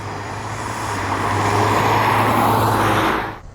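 A Ford Mustang EcoBoost passes by on a road, its four-cylinder engine and tyre noise swelling to a broad, steady whoosh over a few seconds, then cutting off abruptly.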